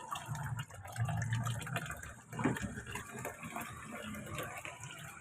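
Water running weakly from a tap into a container in a Tondo, Manila home, a soft uneven trickle and gush, close by, with no talk.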